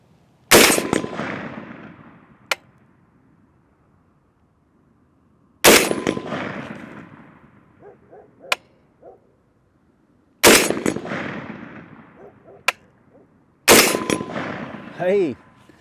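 Rifle gunshots from a Bear Creek Arsenal .450 Bushmaster, four loud, sharp single shots spaced several seconds apart, each followed by a decaying echo and a faint distant impact or clang, with brief low talk between.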